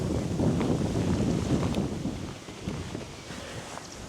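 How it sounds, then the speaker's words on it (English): Strong wind gusts blowing outdoors during moody, rainy weather, a loud, steady low roar buffeting the microphone throughout, easing slightly toward the end. "The wind is really picking up right now."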